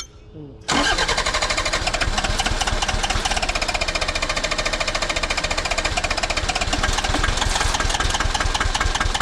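An engine cranks and catches, then runs loud and steady with a fast, even mechanical rhythm, started to check whether a pump on a contractor's equipment is working.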